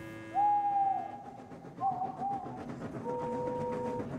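An owl hoots, a long drawn-out call followed by a couple of shorter hoots, over a low rumbling background.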